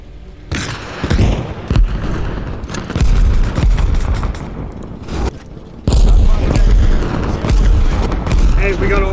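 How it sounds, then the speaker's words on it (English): Artillery strike explosions in the war game Arma Reforger, a series of heavy booming impacts and rumbling blasts nearby, with a particularly strong detonation midway and voices talking between them. "Hey, we got an artillery strike."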